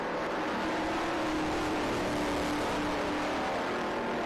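A Triumph TR3 race car drives past on a vintage racing circuit in a Group 1 battle with an MG Midget, its steady engine drone staying fairly constant and moderately loud throughout, with no talk.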